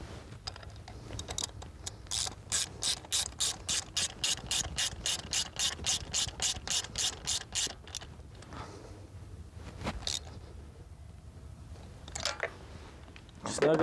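A ratchet fitted with a magnetic spark plug socket clicks in a fast, steady run of sharp pawl ticks while working on a Jaguar XJ6 engine, close and clear, followed by a few scattered clicks and handling noises, with some talk.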